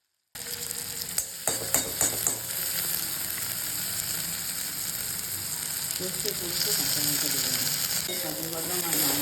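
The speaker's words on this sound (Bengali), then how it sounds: "তারপর টমেটো আর ক্যাপসিম দিয়ে ক্যাপসিকাম দিয়ে মশলাটাকে মানে এটাকে একটু ভেজে ভেজে নেব" Spice paste with tomato and capsicum fries in a pan as festival cooking, giving a steady close sizzle. Several sharp stirring clacks come early, and the frying grows a little louder toward the end.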